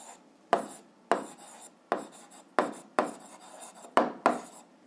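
Handwriting an algebra exercise on paper, seven or eight distinct pen strokes with sharp onsets and scratchy tails, close and clear with no talking.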